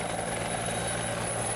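A Bell 412 helicopter flies steadily, its rotor and turbine making a continuous, fairly loud drone with no voices over it.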